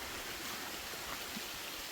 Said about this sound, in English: But you have a little waterfall right here. It goes all the way down to the river